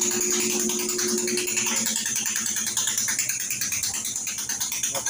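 An empty washing machine in its spin cycle makes a strange mechanical noise, a continuous close clattering, ratcheting whir with a fast rhythmic ticking underneath and a brief high tone early on.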